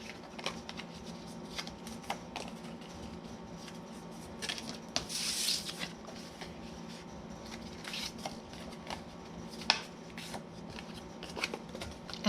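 Scored paper strips folded one after another by hand, giving soft crinkling and rustling with small creases and taps throughout. One brief louder swish stands out, and there is no speech.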